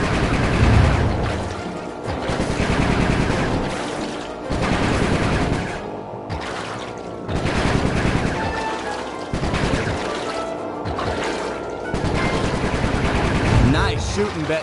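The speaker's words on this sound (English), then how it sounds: "Nice shooting, Bentley." Rapid gunfire from the Sly 3: Honor Among Thieves video game comes in loud bursts of machine-gun fire and booms, separated by short pauses, with game character voices heard between the volleys.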